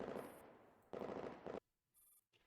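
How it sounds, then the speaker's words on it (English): Bursts of rapid gunfire from the game Girls Frontline, loud and dense, separated by short pauses, with a few quieter blips and effects near the end. "answers her with the sound of gunfire."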